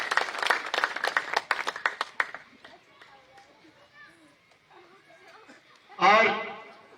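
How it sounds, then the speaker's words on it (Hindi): Clapping and cheering from an audience at a party workers' meeting in Bhadohi, a dense burst up front that thins into scattered claps and voices, then a louder crowd swell near the end. "चलिए जोरदार तालियों से स्वागत माननीय प्रधान जी के लिए"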